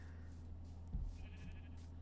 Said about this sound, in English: Now I just need a second cow